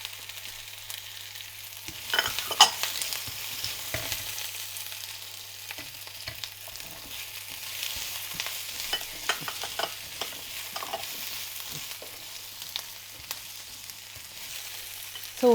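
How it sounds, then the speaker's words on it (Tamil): Diced potato and sweet potato, added after onions, sauté in a pan, giving a soft steady sizzle broken by repeated spoon scrapes and stirring clatter, close and moderately quiet. "வெங்காயம் வதக்கிட்டு அதுக்கப்புறம் வெஜிடபிள்ஸ் ஒன்றா போட்டு நல்லா வதக்கலாம்."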